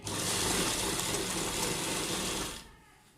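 An electric sewing machine runs in one steady, loud whir while stitching the fabric of a lined loose palazzo over its elastic, then cuts off sharply near the end, leaving quiet.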